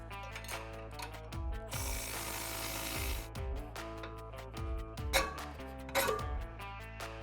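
A hand ratchet loosens the track bar and lower shock bolts during a ReadyLift suspension lift install, clicking in quick repeated bursts close by, with a brief louder stretch of mechanical noise.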